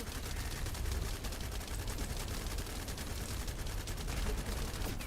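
Dense, continuous automatic gunfire from The First Descendant game, a rapid fusillade of overlapping shots that stays loud and unbroken throughout.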